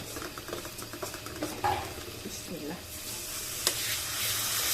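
Close, continuous sizzling and crackling from a hot pan as water is added to frying spices for a chicken feet and cabbage curry, with light stirring and a few sharper pops.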